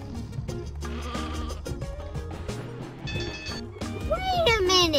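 Cartoonish sheep bleats in the video game Sheep, Dog 'n' Wolf, rising and wavering near the end over steady game music, with someone talking throughout.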